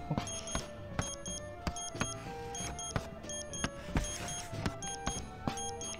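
A countdown timer in the Bully video game ticks in an even, regular rhythm, with bright beeping tones pulsing over a steady background and no speech.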